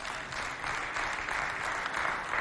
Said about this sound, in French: Applaudissez pour elle d'abord.